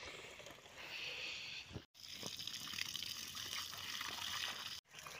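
Water runs steadily from a tap or pipe while blankets are rinsed outdoors in a village, a continuous gushing splash close by with two brief cutouts.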